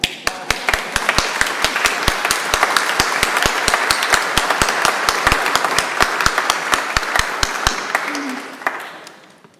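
A church congregation applauding a volunteer at a Sabbath morning service, a steady, fairly loud crowd clapping with sharp individual claps on top, lasting several seconds before fading out.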